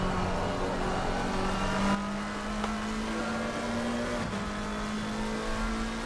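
Race car engine in a sim racing game, a steady droning tone held at an even pitch for several seconds with a slight rise, carried under continuous track noise and no voices.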